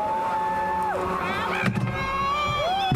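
A Halloween crowd on 56th Street cheers, whoops and shouts in a continuous dense roar, with high voices and whistles rising above the din, close and loud throughout.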